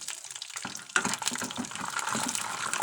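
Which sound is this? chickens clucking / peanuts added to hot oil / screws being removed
peanuts added to hot oil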